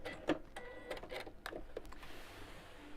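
A sewing machine stitches a seam in short bursts: quick mechanical whirring runs with clicks and pauses between, close and fairly quiet.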